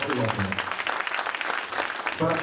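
An audience applauds in a hall at an association gathering, a steady dense clapping with a voice talking over it.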